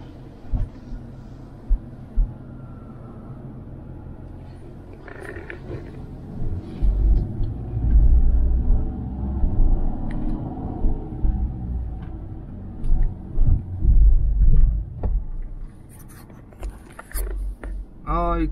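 A car engine starts and idles with a low, steady rumble, swelling in loudness through the middle and toward the end, with some handling noises and a voice briefly present.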